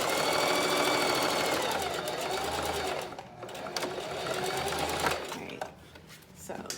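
A sewing machine back stitching fabric, running in a steady close mechanical whir that dips briefly partway through before resuming, with a soft voice faintly underneath.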